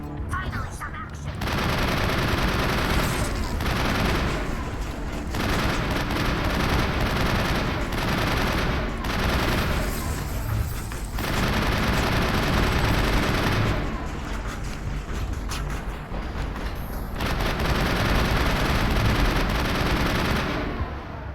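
An upgraded gun fires in the video game Mass Effect, sustained heavy automatic bursts lasting several seconds each with short pauses between, loud and up front, with game voices and commentary mixed underneath.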